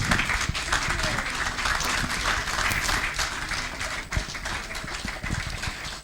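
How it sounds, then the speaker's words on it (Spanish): A church congregation applauds during a Spanish-language sermon, with sustained, dense clapping across the whole stretch and faint voices mixed in. "Dale el aplauso y decirle: Señor, yo creo en eso."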